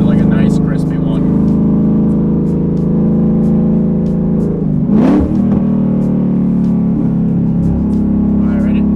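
Ford Mustang V8 with a Holley Sniper setup revving hard and building to a loud rising roar as the tires spin, heard up close and steady, with people talking over the engine.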